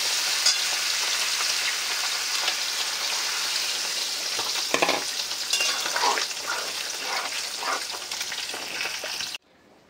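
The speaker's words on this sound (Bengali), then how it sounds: "এবার জল দিয়ে দেবো।" Curry frying in a pan as water is poured in, a loud continuous sizzle with stirring scrapes and bursts of spitting near the middle, heard up close before cutting off abruptly at the end.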